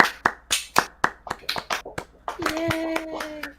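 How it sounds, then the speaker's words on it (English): Hands clapping at a steady, deliberate pace for a guest on an indie game discussion show, a dozen or so sharp claps close to the microphone, then a brief cheer and a sustained tone as the clapping continues at the end. "Let's clap it up for Derivative for sure"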